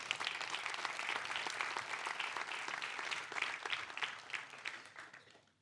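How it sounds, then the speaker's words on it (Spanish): A church congregation breaks into sustained applause, dense steady clapping from many hands filling the room at a moderate distance before tapering off at the end. "Denle un fuerte aplauso a Dios."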